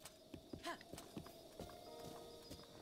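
Horse hooves clip-clopping in the video game The Legend of Zelda: Breath of the Wild, a run of quick, light thuds at moderate distance with a brief whinny-like cry near the start over low game ambience.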